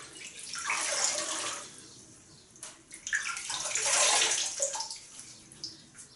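Water runs from a tap for wetting the face before a shave, a bright rushing stream that swells, breaks off and resumes as hands splash through it at close range.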